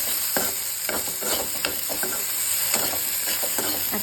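Pre-fried okra with salt is stirred and sautéed in a pan, irregular spatula scrapes and clinks over a steady oily sizzle, close and fairly loud.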